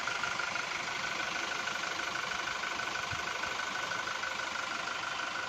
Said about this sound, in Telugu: ఇంజన్ నాయిస్ అబ్జర్వ్ చేయండి.